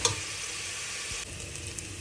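Garlic and ginger sautéing in a pan for sinigang give off a steady, close frying sizzle with faint stirring, preceded by a brief clatter at the start; no one speaks.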